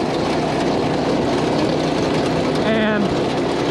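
A Honda clone go-kart engine with its governor engaged runs steadily at about 3,900 RPM, a continuous close droning hum under a voice.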